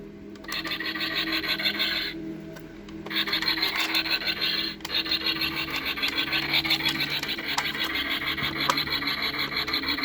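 A Millennium Falcon Micro Galaxy Squadron toy plays electronic special-effects sounds: busy rasping, crackling blaster-like bursts that run steadily for several seconds, briefly cut out, then resume loud and close, with no talking.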